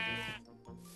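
A Minecraft goat gives a single wavering bleat in the mobile game, loud and close, then fades out.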